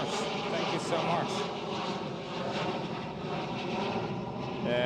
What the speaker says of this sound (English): That's yet again KLM City Hopper E175 this time.